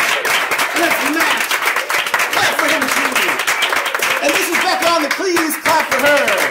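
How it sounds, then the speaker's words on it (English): Audience members clap for a performer being introduced at an improv comedy show, steady, fairly loud clapping that keeps going throughout, with scattered voices and cheers mixed in. "Clap for him."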